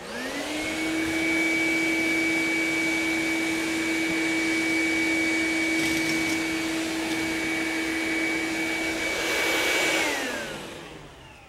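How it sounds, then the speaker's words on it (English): A heavy-duty shop vac vacuums debris out of an air-conditioning condensing unit, its loud, steady motor whine rising at startup, holding for about ten seconds, then spinning down, with no talking. "we're also going to take a heavy-duty shop vac to vacuum out any debris that may have gotten pulled through this"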